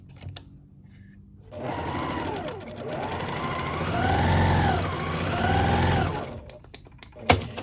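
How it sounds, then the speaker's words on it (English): A sewing machine runs steadily for about five seconds, stitching the quarter-inch seam of a fabric face mask, with its motor whine rising and falling in pitch as the speed changes, and no talking over it. "All right, back to the other side, and we'll stitch this one down."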